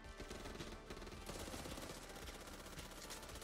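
Rapid automatic gunfire in the zombie shooter Back 4 Blood rattles continuously, a dense, loud, unbroken burst of shots with no talking.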